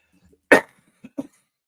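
One hard, close cough bursts out, then two shorter, quieter coughs follow about half a second later, with no talking around them.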